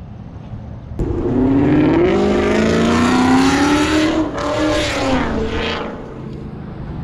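A Ford Mustang revs hard and roars past near Altus, Oklahoma, its engine note rising loud and close, then a gear change and a fading second surge as it speeds away.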